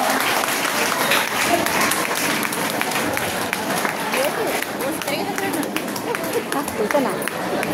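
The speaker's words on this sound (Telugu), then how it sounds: "చాలా గట్టిగా క్లాప్స్ కొట్టాలమ్మా" An audience claps loudly at a college felicitation honouring a student, a dense, sustained burst of applause filling the whole stretch, with crowd voices mixed in.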